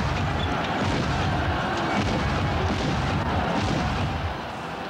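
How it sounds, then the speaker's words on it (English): Musketry and artillery fire on a battlefield form a dense, continuous roar of overlapping shots and booms, loud and unbroken throughout with no clear separate reports. "The advancing infantry had to run the gauntlet of musketry and artillery fire."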